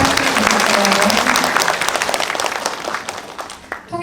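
Audience applauding at a mental health day award ceremony as a plaque is presented, dense loud clapping that thins and fades over the last seconds.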